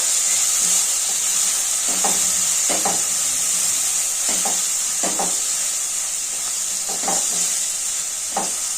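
Chopped onions frying in hot oil, a continuous bright sizzle with faint stirring scrapes recurring every second or so, close and steady with no talk.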